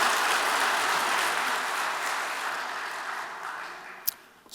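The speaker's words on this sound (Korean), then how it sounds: "단으로 모실 때 따뜻한 환영의 박수 부탁드립니다" Sustained, dense applause from a church congregation at a Sunday worship service, welcoming a speaker to the stage. The steady clapping fills the whole stretch, gradually thinning toward the end with a single sharper clap near the close.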